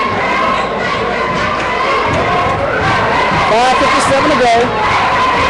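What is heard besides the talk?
visiting Madison fans cheering at basketball game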